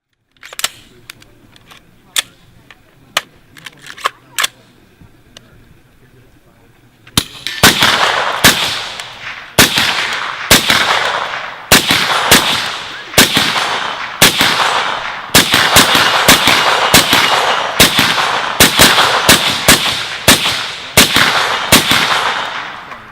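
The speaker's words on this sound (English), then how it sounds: "an actual person shooting a AR-15 with a suppressor on it" A suppressed AR-15 rifle fires as played back from a recording: a few scattered sharp cracks at first, then a long run of loud, rapid, irregular shots with short gaps between them.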